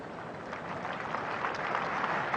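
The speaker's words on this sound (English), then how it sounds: "There'll be applause." Crowd applause at a Lord's cricket Test match between England and India, a steady, dense wash of clapping from a large distant crowd that continues throughout without a break.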